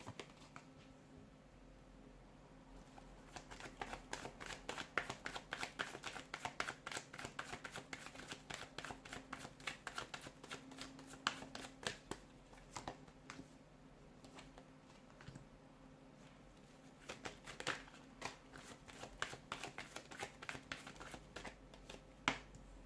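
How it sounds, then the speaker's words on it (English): Tarot cards are shuffled in quick, rapid bursts of soft riffling and slapping, fairly quiet and close, with short pauses between rounds. "give the cards a shuffle"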